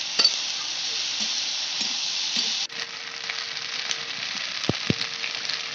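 Chopped potatoes fry with okra in a wok, a loud continuous sizzle with a brief scrape of stirring partway through.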